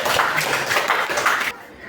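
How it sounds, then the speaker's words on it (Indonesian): Students in an Indonesian-language classroom clap their hands together in a short, dense burst of overlapping claps lasting about a second and a half, then stop abruptly. "boleh tepuk tangan anak bapak semua"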